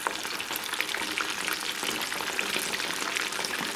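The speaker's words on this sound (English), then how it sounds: "now the first batch that I had fried, I'm putting back in, and this is what's called double frying" Chicken wings for spicy wings are double fried in hot oil, giving a dense, continuous crackling sizzle with no talk.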